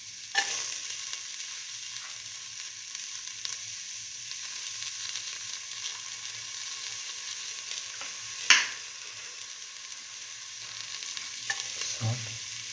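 Ginger fries in a pan for a split mung bean tomato stew, giving a steady soft sizzle broken by occasional scraping stirs of a utensil.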